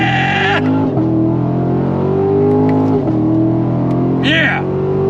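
Chevrolet Corvette C7 Grand Sport V8 accelerating hard, engine pitch rising and dropping through several gear changes, loud and close, with a brief shout near the start and another near the end.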